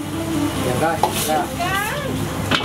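A street cook in a Chinese restaurant stir-fries food in a pan, giving a loud, continuous sizzle with tossing and scraping, a sharp clatter near the end, and faint background voices.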